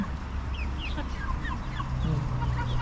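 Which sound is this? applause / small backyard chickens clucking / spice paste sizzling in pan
small backyard chickens clucking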